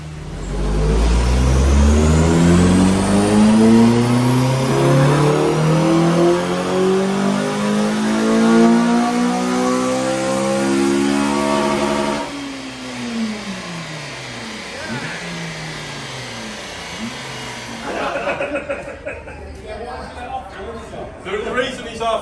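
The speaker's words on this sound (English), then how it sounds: "MKEF Racing's FN2 on the dyno" Honda Civic FN2 Type R engine revving hard on a dyno, climbing steadily in pitch for several seconds, then backing off and dropping with lighter blips, loud and close.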